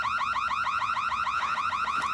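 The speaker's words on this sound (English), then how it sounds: "I must have tripped the alarm." A tripped security alarm sounds loud and close, made of rapid repeating chirping sweeps that carry on steadily throughout.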